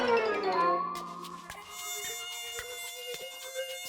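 A mosquito's thin whining buzz rises and hovers close by, steady and faint, then gives way to sparse ticking clicks and a sustained tonal hum.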